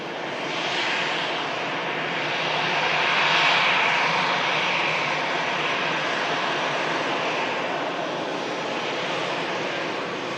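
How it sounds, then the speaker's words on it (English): A BEA retro-liveried British Airways airliner landing at Manchester Airport, its engines a steady broad roar that swells slightly and holds loud throughout, with no voices. "BEA Retro British Airways aircraft coming in."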